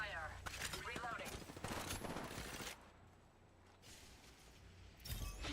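Bursts of gunfire rattle through a video game battle, loud and repeated in the first half before easing into quieter background fire, with a voice speaking over it.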